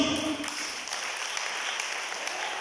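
Church congregation at a seminar service applauding and cheering, a brief dense wash of clapping and crowd noise, fairly loud and steady throughout.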